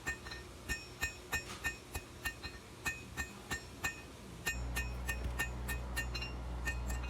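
Steady hammer blows ring on an anvil as hot steel from scrap is drawn down to a steep taper for a squirrel tail blade, about twenty sharp metallic strikes in a regular rhythm, with a low hum rising partway through.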